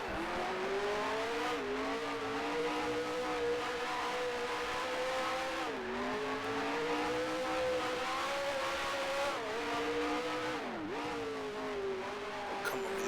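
Race car engine in the Grand Prix Legends sim, running loud and continuous, pitch climbing through the gears with several sharp dips at shifts and braking, no voices.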